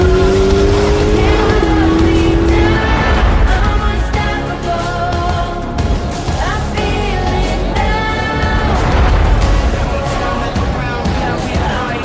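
A Chevrolet Corvette ZR1 driving hard, its engine roaring and revving through gear changes with tire squeal, loud and close. Someone talks over part of it.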